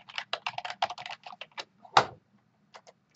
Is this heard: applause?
no